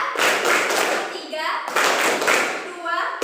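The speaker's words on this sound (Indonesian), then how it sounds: "Tepuk satu kali. Tepuk dua kali. Tepuk tiga kali." A class claps along in a counting game, with bursts of claps and taps set to a chant; children's voices are heard between the bursts.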